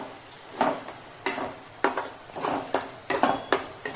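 Pasta with Schezwan sauce is stirred in a pan over the heat, a spoon scraping and clacking against the metal in regular strokes, about one every half second, over a soft sizzle, no voices.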